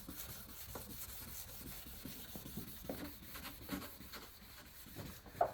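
A plastic headlight lens is wet sanded by hand with straight side-to-side strokes, producing quiet, repeated rubbing and scraping close by, with a small tap near the end.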